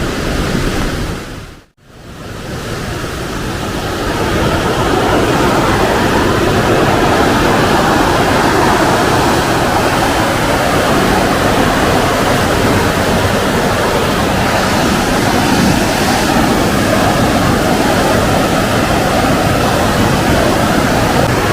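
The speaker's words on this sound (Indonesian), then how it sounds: "seperti apa riam yang cukup ganas di daerah Mahakamulu ini" River rapids on the Mahakam River roar in a loud, continuous broadband rush of churning whitewater, steady and close, with no speech, after a brief dip near the start.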